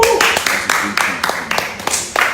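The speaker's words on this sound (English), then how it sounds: "Clap for them." Audience members at a live Nigerian fundraising broadcast clap for donors in scattered, uneven bursts of close handclaps, with voices mixed in throughout.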